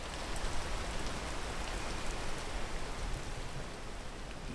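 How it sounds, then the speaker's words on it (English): Steady, dense rainfall in the video game PEAK, a continuous broadband hiss of drops with no gaps and no voices over it. "And it is raining."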